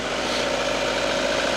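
A 1999 Mazda Protege engine idles steadily and close by, a continuous smooth hum with a faint tonal whine and no revving.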